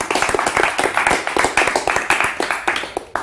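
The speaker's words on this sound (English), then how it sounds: "Let's give him a round of applause." Brisk, close clapping from a small live-lecture audience welcoming a UK mentalist, with sharp, rapid hand claps in a dense, uneven rhythm for a few seconds.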